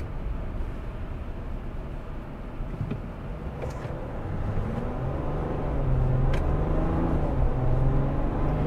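A 2021 Ram 1500 EcoDiesel pickup with a 3-liter V6 rumbles low and steady while driving, the engine drone swelling slightly louder partway through.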